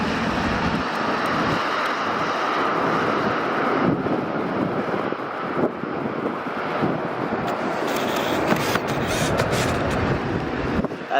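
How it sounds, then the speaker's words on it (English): Steady engine drone of a helicopter flying overhead near Sydney Airport with rushing wind noise, continuous and fairly loud throughout. "That helicopter is still up there somewhere."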